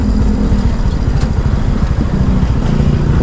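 A motorcycle with a sidecar travelling over a rough, potholed road, its engine chugging loudly and steadily for a few seconds with rattling from the bumps.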